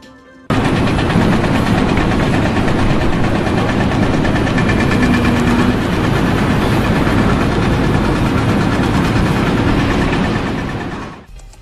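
Skid steer loader engines roar at a constant loud level for about ten seconds, a dense rattling mechanical drone with no pauses, close by, then cut off abruptly at the end.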